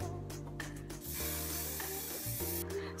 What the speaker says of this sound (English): I just added hairspray.